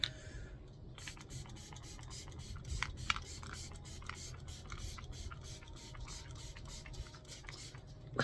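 Facial spray misted from a pump bottle in several short, soft hissing bursts, close by, over a steady low background rumble.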